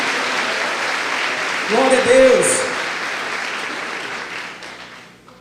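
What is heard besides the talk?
applause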